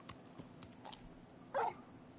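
A dog in the video game Final Fantasy XVI lets out a single short bark or yip over a faint game backdrop.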